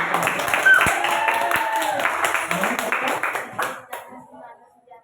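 Classroom clapping from students during a lesson, a short burst of hand claps that fades out after a few seconds, with voices heard alongside.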